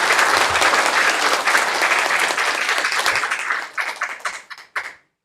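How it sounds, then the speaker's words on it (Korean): A church congregation claps at a children's worship service, a full, dense round of applause that thins into scattered individual claps before stopping. "큰 박수로 감사를 표하도록 하겠습니다."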